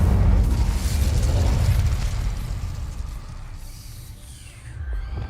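Incendio fire spell cast in the video game Hogwarts Legacy, a dense roaring whoosh of flame that starts loud and slowly fades over a few seconds, with no talk over it.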